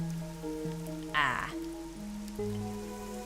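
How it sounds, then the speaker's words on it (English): Steady rain patters in Master Detective Archives: Rain Code, a continuous wash under sustained game music tones, with a brief brighter burst near the middle. "The rain, it never stops."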